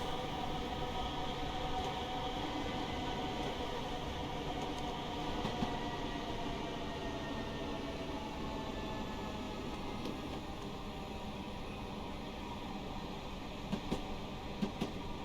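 A train in Train Sim World rolls over a track switch, a steady continuous rumble and rail noise with faint clicks near the end.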